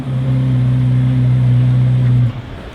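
A nearly new 70th Anniversary Corvette Z06 is revved at a Corvettes at Carlisle show, a loud, close, sustained steady-pitched engine note held for about two seconds before cutting off to a lower idle.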